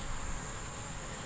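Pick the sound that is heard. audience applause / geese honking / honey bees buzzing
honey bees buzzing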